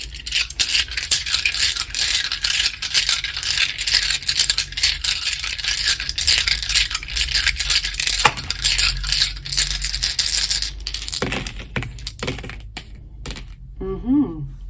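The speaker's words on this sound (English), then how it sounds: "I'm going to roll all 9 dice for you." Nine dice rattle and shake steadily for a long stretch, a dense close clatter, then spill out with a few sharp clicks before a voice briefly speaks at the end.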